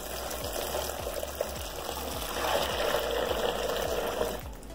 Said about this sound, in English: And in goes my hot water.